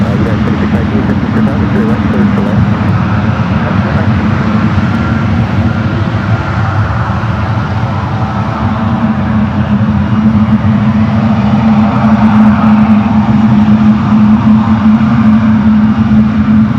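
A fixed-wing airliner landing at San Francisco airport roars with a loud, steady engine drone across the whole stretch, and a voice speaks over it.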